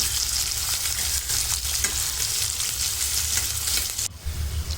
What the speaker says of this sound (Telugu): ఉల్లిపాయలు, పచ్చిమిర్చిని మంచిగా ఫ్రై చేసుకోవాలి